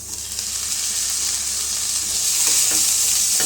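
Sliced onion and two ripe tomatoes sauté in a hot pan for a Vellore-style rice and dal lunch, making a loud, continuous sizzle with soft stirring scrapes near the end.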